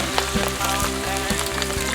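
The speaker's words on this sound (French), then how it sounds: "nous sommes à la partie de la friture" Pike pieces frying in hot oil for a shore lunch, a steady dense sizzle with crackling pops running throughout, fairly close and with no talk over it.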